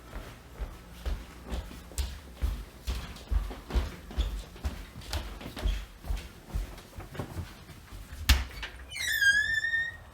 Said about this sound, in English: Oh, what about the front door? Let's check the front door.